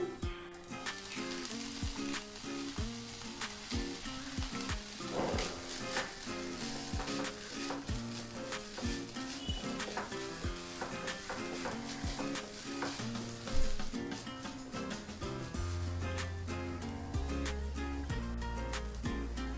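Grated coconut sizzling in ghee in a pan for poha modak, with a continuous crackling fry and repeated scraping stirs and knocks of a spoon, close and steady for the whole stretch, no voices.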